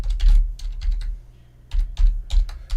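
Close, crisp typing on a computer keyboard, coming in quick bursts of clicks broken by a brief pause midway, with no talking.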